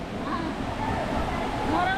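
Water park wave pool churning with a broad, steady wash of surf-like noise, close and continuous, with faint voices and chatter mixed in beneath.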